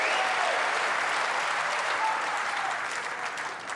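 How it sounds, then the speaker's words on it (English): Sustained applause from the crowd at the 2024 Masters snooker final, a dense, loud wash of clapping that tapers slightly at the end, with faint speech beneath. "Crowd getting ever more excited."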